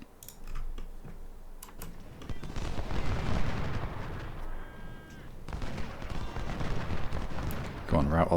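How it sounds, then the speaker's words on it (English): Cannon fire from an artillery battle in the Civil War strategy game Ultimate General: Civil War, dense booming blasts layered over a continuous rumble of battle noise, with some speech mixed in. "We're only going to get cannon fire."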